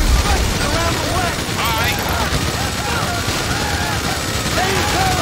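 Dense, continuous gunfire during a police shootout at a roadblock in the video game GTA V, with rapid overlapping bursts and shouting voices mixed in over a loud, busy action scene.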